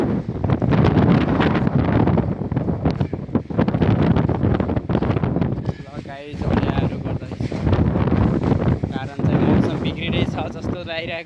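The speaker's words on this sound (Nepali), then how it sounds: "ओहो हावा चाहिँ ठेरै ठुलो छ" Strong, gusty wind roars and buffets the microphone near a tree before rain, loud and continuous with brief lulls, while a person talks over it.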